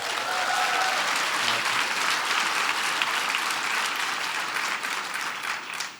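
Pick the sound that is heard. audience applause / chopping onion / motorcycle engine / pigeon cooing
audience applause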